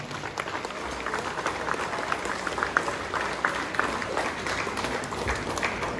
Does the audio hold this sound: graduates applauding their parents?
yes